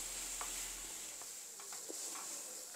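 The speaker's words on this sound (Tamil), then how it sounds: "ஃபியூ மினிட்ஸ் ஆனியனை வதக்கி விட்டுட்டு அப்புறம் நம்ம தக்காளி ஆட் பண்ணலாம்" Finely chopped onion sautés in a pan for a home-cooked tomato chutney, a faint soft sizzle with a few light stirring scrapes and taps, quiet and close.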